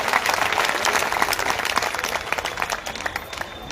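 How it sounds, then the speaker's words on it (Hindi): Sustained audience applause at a Samrat Ashok club gathering during the Latiya Mahotsav 2024, a dense wash of many hands clapping steadily and fading slightly toward the end, with no speech over it. "तालियों की गगनभेदी गड़गड़ाहट से उनका स्वागत किया जाए"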